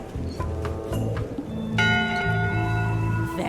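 A ship's bell rings in the video game Return to Monkey Island, a few clear metallic strikes with a longer sustained ring near the end, heard alone without talk.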